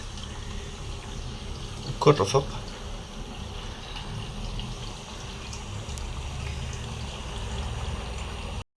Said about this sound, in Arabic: بدأ المي يستبدل، يدخل يحل محله مي نظيف جديد